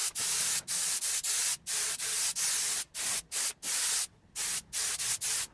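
Spray gun putting a second, thicker coat of lacquer on a Honda Type R headlight, a loud close hiss in short repeated bursts with brief gaps between passes.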